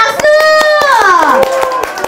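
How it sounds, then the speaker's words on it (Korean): Applause at a Korean center opening-ceremony broadcast: sharp claps beat steadily beneath a loud, sustained voice that glides downward in pitch. "박수"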